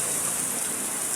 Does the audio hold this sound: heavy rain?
yes